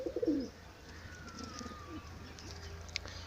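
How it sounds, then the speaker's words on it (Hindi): A sick, sluggish pigeon gives a few soft, low coos, loudest at the start and then fading into quiet outdoor background with faint distant chirps. "जैसे अब आप देख रहे हैं यहाँ सामने एक कबूतर बैठा है, थोड़ा सुस्त है"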